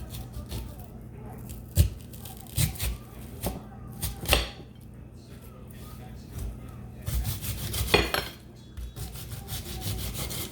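A knife cuts vegetables, onions among them, on a cutting board for a roast, giving scattered sharp taps and soft scraping strokes at an uneven pace while a person talks nearby.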